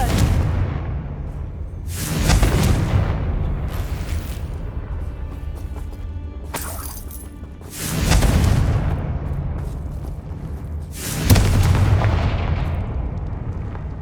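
Confringo blasting-curse explosions go off in Hogwarts Legacy, three loud booming blasts a few seconds apart, each with a long rumbling decay and no talking.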